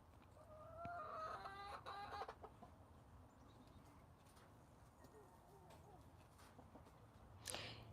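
Rooster in a backyard chicken coop making a strained, partial crow attempt, followed by scattered clucks and soft hen murmurs at low level, with a louder squawk near the end.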